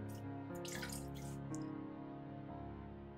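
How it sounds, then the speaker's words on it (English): Warm water runs from a tap over a soapy cosplay wig being washed. Quiet splashing and trickling come in short bursts over soft, steady background music. "Massage in a generous amount of soap, and then wash the wig under some warm water."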